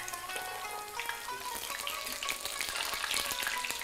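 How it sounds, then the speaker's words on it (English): Burghul kibbe fry in hot oil, a busy close crackle and sizzle with scattered pops, steady and moderately quiet with no talk. "And we'll continue frying them from the other side"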